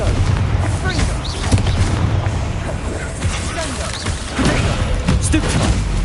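Confringo fire spell blasts from the video game Hogwarts Legacy, a dense run of booming, crackling explosions with heavy low rumble that continues steadily through the whole stretch amid loud battle noise.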